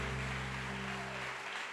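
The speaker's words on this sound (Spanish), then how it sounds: "Denle ese aplauso fuerte al Rey" A church congregation applauds the King during a Spanish-language sermon. The clapping is steady and dense, spread through the whole short moment, with a low sustained organ or keyboard tone running beneath it.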